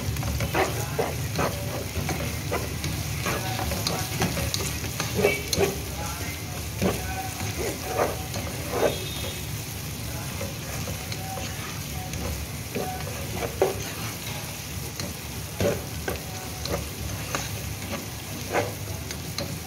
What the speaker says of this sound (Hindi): एक से 2 मिनट मैं इसको भूनूंगी।